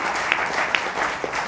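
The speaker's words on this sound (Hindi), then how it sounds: "आपकी तालियां बजनी चाहिए" An audience at a Hindi poetry gathering (kavi sammelan) in Navi Mumbai claps in a steady wash of applause, moderately loud, with a few sharper individual claps standing out.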